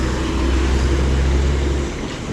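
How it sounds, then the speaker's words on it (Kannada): A heavy diesel bus rumbles in steadily at the Maski bus stand, its low engine drone loud and continuous before easing off near the end. "ಯಾದಗಿರಿ ಗಂಗಾವತಿ ಗಾಡಿ ಒಂದು ಬರ್ತಾ ಇದೆ"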